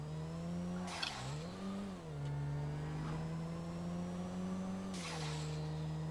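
A Porsche Cayenne engine in GTA 5 drones steadily at low pitch, its revs dipping and rising as the SUV climbs toward the mountains, with two bursts of tire noise or skidding. No one speaks.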